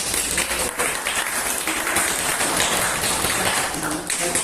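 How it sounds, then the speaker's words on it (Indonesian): Students in a classroom applaud their classmates, a continuous loud spread of clapping from many hands that holds steady the whole time. "Ya, tepuk tangan untuk teman-teman."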